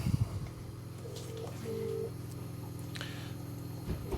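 A telephone being dialed, with short keypad tones over steady low engine-like hum from mowers and a brief rustle at the start, no talk.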